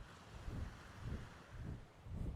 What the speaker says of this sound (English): The sounds of the waves always relax me.